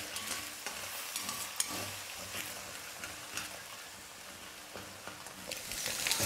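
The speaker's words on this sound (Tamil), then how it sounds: "தீயை வந்து இப்போ மீடியம் ஃப்ளேமில் வச்சுக்கிட்டே நம்ம முட்டையை நல்லா குக் பண்ணிக்கலாம்" Four eggs fry in a pan over a medium flame, giving a continuous close sizzle broken by scraping stirs and light spatula knocks, with no talking.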